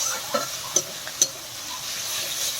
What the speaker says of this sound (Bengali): হলুদ দেওয়ার পর আমি এটা নাড়াচাড়া করে নিলাম